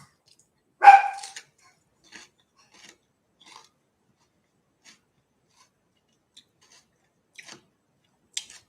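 A single short dog bark close by near the start, followed by long near-silence broken by faint scattered ticks and small sounds, with no talking.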